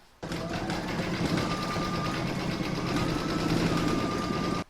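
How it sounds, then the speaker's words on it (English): An embroidery machine stitches the darker flower detail of an in-the-hoop poppy coaster, a steady rapid mechanical chatter close by that starts abruptly and stops cleanly after a few seconds. "I'm now going to stitch round number 5, and that's going to do the darker flower detail"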